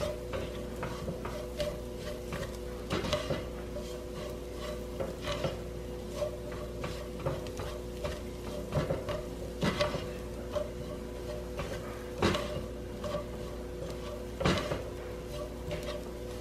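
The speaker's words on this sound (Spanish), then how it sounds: "Movemos por un poquito para dorarla también." A spoon scrapes flour and garlic in a pot as the flour browns for a gnocchi and chicken soup, with soft, quiet strokes repeating every second or two over a low steady background hum.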